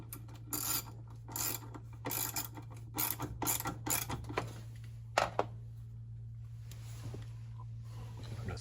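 Screw driven home with a hand tool while replacing the recirculation pump on a GE top-load washer: a series of short ratcheting clicks and rasps, then a couple of sharp ticks, over a steady low hum.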